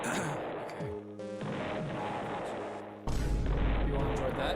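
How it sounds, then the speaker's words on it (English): Loud, rumbling explosion effects from the video game AI: The Somnium Files, with a sustained blast followed by a heavier, deeper boom near the end, layered over dense game audio. "I'm planning on not turning off the explosion sound effect for the rest of the stream"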